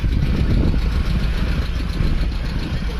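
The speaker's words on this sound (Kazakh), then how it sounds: "Сағат сияқты жұмыс етіп тұр мотор." A used GAZelle minivan engine idling, a steady low rumbling drone that is close and even throughout, with no talking.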